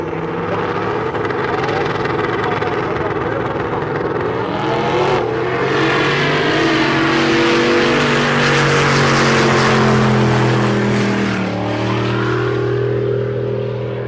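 Race car at Rocky Mountain Race Week roaring loudly and steadily for the whole stretch, engine pitch climbing and shifting as it accelerates away on launch, dense continuous drone with rising harmonics.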